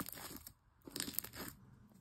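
Clear slime, sticky even after plenty of activator, is squished and pressed by hand, giving soft clicky, crackling pops in short bursts up close at low volume.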